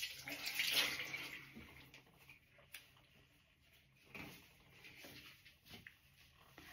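Water from a bathroom sink splashes as a face is rinsed, faint and intermittent, with a louder burst near the start and softer trickles and splashes after.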